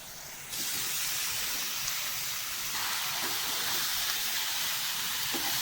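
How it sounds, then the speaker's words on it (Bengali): Chicken meat is dropped into hot spiced oil in a pan for a Bengali chicken kosha, setting off a sudden loud, steady sizzle that holds and swells slightly throughout. "এখন মাংসগুলো দিয়ে দিই।"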